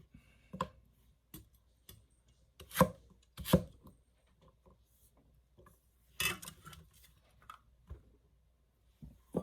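A Chinese cleaver chops through a very thick beet, cutting it into cubes: scattered sharp knocks on a cutting board, several loud close strikes with softer taps between, no talking.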